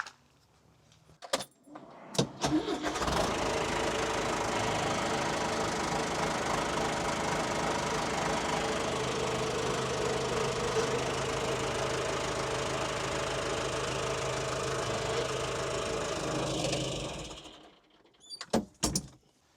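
A John Deere 2650 tractor runs its hydraulics to drive a bucket cylinder all the way in, a steady loud engine and pump drone lasting about fifteen seconds, with a few clunks before and after.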